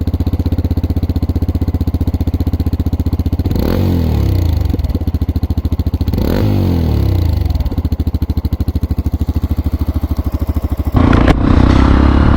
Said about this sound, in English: I'll probably skip into a sound of the bike now at idle and revving